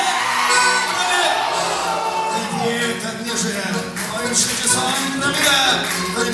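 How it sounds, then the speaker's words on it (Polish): A crowd at a live concert event shouts back and forth in a call-and-response contest, women against men, with loud sustained whoops and yells filling the space throughout. "Panie będą krzyczeć hej, panowie ho"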